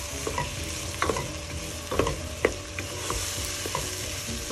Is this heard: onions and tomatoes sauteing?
yes